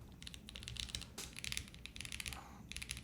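Someone types on a Haven TKL mechanical keyboard with its top piece removed, producing rapid, crisp, clacky keystrokes in irregular bursts, close and clear over a low background hum.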